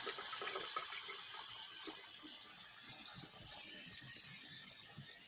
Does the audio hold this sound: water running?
yes